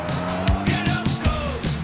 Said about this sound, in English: Excitement comes standard with the Honda Accord, and so does a turbocharged engine.